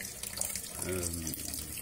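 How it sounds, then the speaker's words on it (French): Tap water runs into a kitchen sink during dish washing, a steady hiss with a brief harmonic gurgle near the middle as the stream hits dishes, close and moderately quiet, with no talking. "Et je fais la vaisselle ensuite."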